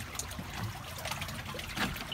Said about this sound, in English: And the river is just completely overswollen its banks.